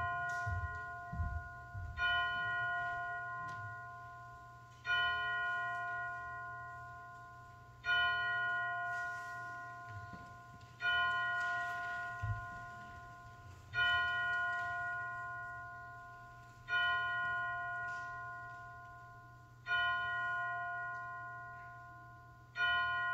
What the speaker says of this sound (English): Then we will let the chimes bring us into worship.